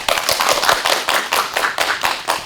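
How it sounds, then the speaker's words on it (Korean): Audience applause welcomes a film director at a lecture event, a steady, loud clapping from a crowd with dense, even rhythm lasting a couple of seconds. "박수로 청해 듣겠습니다."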